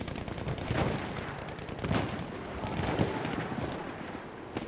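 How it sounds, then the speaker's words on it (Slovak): Faint bursts of gunfire from the video game Battlefield 1, several distant cracks spaced about a second apart over a low, noisy background. "To sa niekto strieľa."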